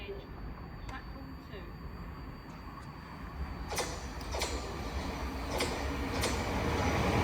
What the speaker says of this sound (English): a Thameslink service coming by from Cambridge to Brighton